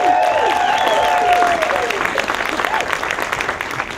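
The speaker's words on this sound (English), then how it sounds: "Big round of applause for Dave Rodriguez." A TV-industry panel audience applauds director Dave Rodriguez with steady, dense clapping, loud and close. Crowd voices call out over the clapping, and a whistle or two rise above it.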